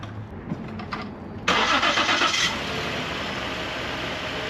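Car engine cranking and catching after an oil flush, then settling into a steady, quiet idle; close and alone after a few faint clicks.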